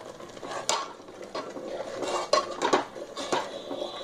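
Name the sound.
stirring curd into masala in a pan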